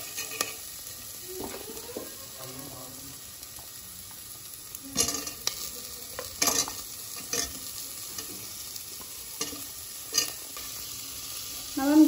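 Pumpkin and carrot drop into a pan of half-cooked onion and garlic, giving a low sizzle with scattered stirring scrapes and a few sharper clinks, fairly quiet over a steady background hiss.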